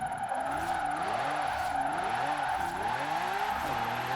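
A powerful stunt car in Forza Horizon 4 is held in a long sideways drift. The engine revs loudly and keeps wavering, with a steady tire squeal running under it throughout and no talking.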